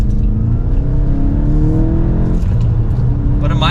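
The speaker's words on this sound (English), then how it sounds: "but a mild acceleration like that, and we're up to speed" A 2023 Volkswagen Golf GTI SE four-cylinder pulls through a gentle acceleration from inside the cabin, a steady low drone with rising harmonics that climbs smoothly in pitch over several seconds, with a voice talking over it.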